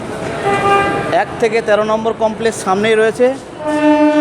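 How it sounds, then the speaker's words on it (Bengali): A loud, sustained train horn blares at Howrah railway station, then someone talks over steady station noise before another long horn tone sounds. "আপনারা ট্রেনের হর্নগুলো শুনতে পাচ্ছেন"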